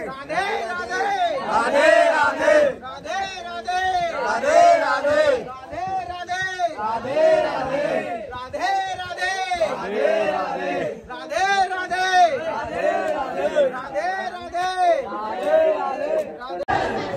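Dense crowd at the Radha Rani temple in Barsana during Holi, a steady roar of overlapping chatter and shouting voices that stays loud and close throughout.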